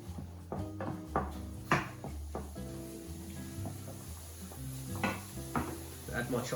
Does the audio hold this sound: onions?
yes